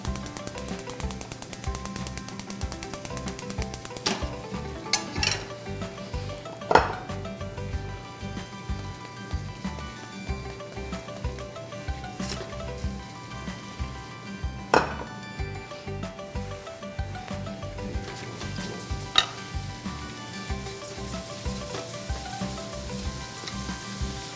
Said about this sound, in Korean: 옆에서 검은깨를 수분이 없어지게 마르게 볶아줍니다